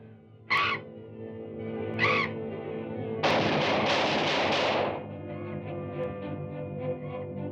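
Sharp blasts from a firearm shot at a bat in an old black-and-white horror film: two short cracks a second or so apart, then a longer, louder burst of crackling noise that fades to a low hum.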